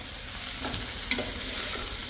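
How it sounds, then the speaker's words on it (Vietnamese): Carrots and sweet greens tossed into a pan of vegetarian stir-fried glass noodles. Quiet, soft scraping strokes come with a faint steady sizzle and one brief clink. "bây giờ mình sẽ cho cà rốt với cải ngọt vô"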